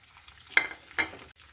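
Bay leaves, cloves, cinnamon and black pepper fry in hot oil with a soft steady sizzle, broken by two sharp stirring scrapes close by.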